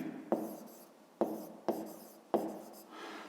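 A pen writes out a maths solution on paper in four separate scratchy strokes, each starting with a sharp onset and fading, close and quiet with no talk.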